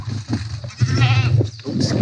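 Goats at a theme park in Germany bleat with a wavering, drawn-out call that rises midway, heard over nearby voices and outdoor background.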